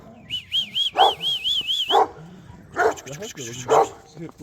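A Kangal dog barks several times in loud, close bursts, mixed with whines and high yips, with a voice or whistle-like warble early on.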